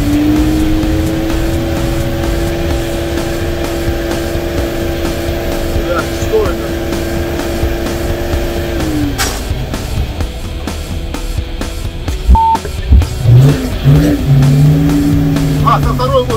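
A GAZ-66 army truck drives along in first gear, its engine droning loud and steady with a whining transmission tone, then the note drops as it slows and a voice speaks near the end.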